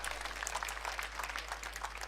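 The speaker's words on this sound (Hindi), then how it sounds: "जोरदार तालियों से आपका सबका स्वागत।" Fairly faint applause from an audience at a BJP election office opening and membership ceremony in Hisar, Haryana: a steady, even patter of many hands clapping with no talk over it.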